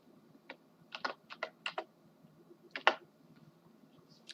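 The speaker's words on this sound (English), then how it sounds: "type something in chat" Quiet bursts of typing on a computer keyboard: several quick clusters of crisp key clicks close by, with pauses between them and a faint low hum underneath.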